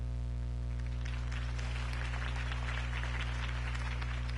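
A crowd in the video game TellTale Batman applauds after Harvey Dent's campaign speech, a moderate patter of clapping that swells after the first second and sits over a constant low electrical hum.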